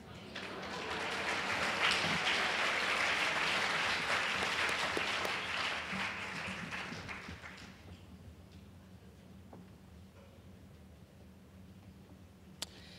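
An audience at a student award ceremony applauds warmly, the clapping swelling quickly, holding, then thinning out to a few scattered claps and a quiet room.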